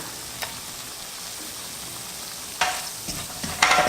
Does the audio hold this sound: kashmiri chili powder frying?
yes